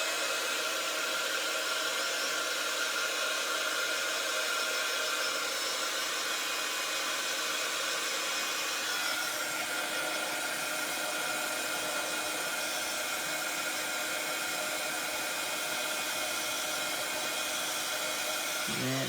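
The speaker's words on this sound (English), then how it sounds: "I will just give that a little whiz with my heat gun just to dry it off" A heat gun blows steadily on a stamped card to dry it, a continuous close whirring hiss lasting the whole stretch with a slight shift in tone midway.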